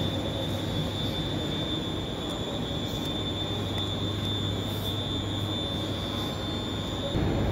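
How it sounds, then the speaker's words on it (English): A diesel passenger train, a class 156 unit, arrives at Glasgow Central station, producing a steady loud rumble with a sustained high-pitched whine and faint squeals from the wheels throughout. "There's another train coming up"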